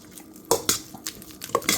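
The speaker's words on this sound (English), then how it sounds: "Scrape as much of that butter off my gloves as I can." Butter is scraped off gloved hands while making pound cake: a handful of short, soft scraping and smearing strokes, close and fairly quiet, in a room with faint background hum.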